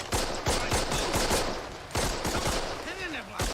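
Rapid bursts of rifle and machine-gun fire in a WWII battle at Carentan, loud sharp volleys in quick succession with a shouted voice near the end.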